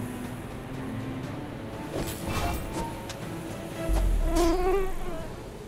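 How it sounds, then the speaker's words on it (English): Mosquito in The Bazaar video game gives a steady, thin whining buzz that hovers throughout, with a few soft game effects rising over it in the middle and near the end. "Frickin' mosquito noise."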